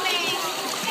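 A child jumps into a swimming pool with a continuous, bright, splashing water wash, close by, while children's voices talk over it.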